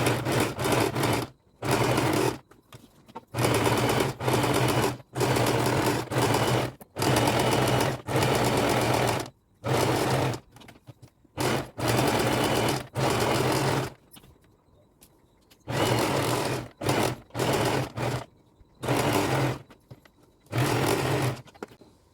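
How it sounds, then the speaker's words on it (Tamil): Sewing machine stitching around the lining of a blouse, running in steady whirring bursts of one to two seconds separated by short pauses, close and clear throughout. "சுற்றி தையல் போட்டுக்கோங்க."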